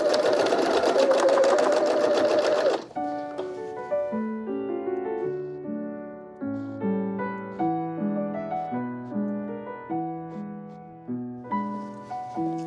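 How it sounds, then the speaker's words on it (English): A sewing machine stitches the collar seam of a shirt dress, running in a loud, steady, fast whir for about three seconds before stopping, after which gentle music plays alone. "We'll be sewing the seam using a 3/8 of an inch or 1 centimeter seam allowance, backstitching at both the beginning and the end."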